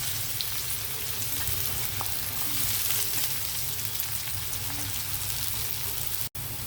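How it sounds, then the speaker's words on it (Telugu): Onions fry in hot oil, giving a dense, even sizzle that stays constant and close, with a few faint taps behind it and a brief dropout near the end. "ఉల్లిపాయలు చక్కగా వేగుతున్నాయి కదా"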